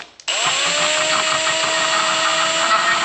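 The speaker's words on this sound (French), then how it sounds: "je suis en train de finoler ça avec ma petite visseuse et des petites dents à bois" A small electric screwdriver fitted with little wood bits carves the fibre roof of a 1:18 scale model car, a steady high-pitched motor whine running loud and close after a brief start.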